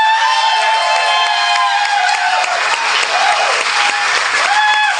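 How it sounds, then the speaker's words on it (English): Live comedy podcast audience applauding and whooping, a loud sustained wash of clapping and cheers lasting several seconds, with no speech over it. "I know you're applauding that because it's a thing that ended that lasted 5 minutes"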